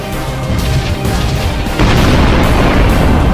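Spaceship weapon fire and a heavy explosion in the video game Sunrider: a rumbling shot gives way to a loud, sustained booming blast that swells halfway through and holds to the end, with no talking.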